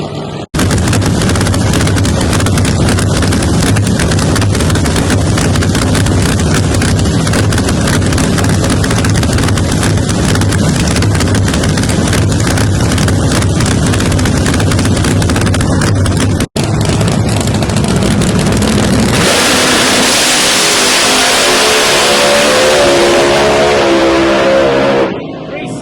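A Pro Mod drag race car on a qualifying run at a motorsports park, a loud sustained engine roar with a sharp break midway, then a shift to a changed, falling tone near the end as the car passes.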